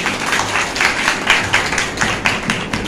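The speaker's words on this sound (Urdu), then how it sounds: "زوردار تالیاں لگائیں" A church congregation applauds during a Sunday service, with steady clapping that swells in several waves and carries on throughout, with no clear voices over it.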